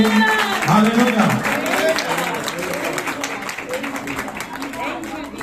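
An audience at a sewing center opening ceremony in Rawalpindi claps for a team, with a dense patter of hands over voices and chatter that gradually fades.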